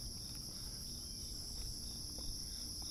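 Steady, high-pitched cricket chirping fills a quiet outdoor scene, continuous and even, with faint low background rumble.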